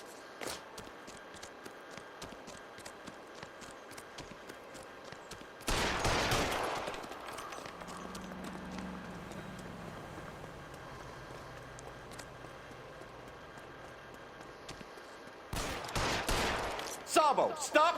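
Gunfire in the video game LA Noire, two loud broadband bursts of shots around six and sixteen seconds, separated by a quieter stretch of background game sound with rumbling effects.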